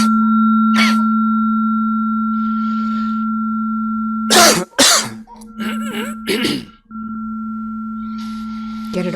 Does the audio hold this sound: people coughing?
yes